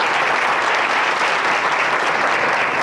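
Loud, steady applause from an audience at a church sermon, dense clapping filling the whole stretch without pause.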